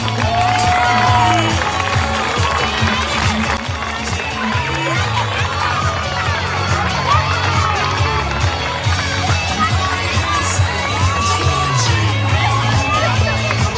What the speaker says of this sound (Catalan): Aplaudiment pels nens i les nenes que han fet de rei, reina, la princesa i Sant Jordi.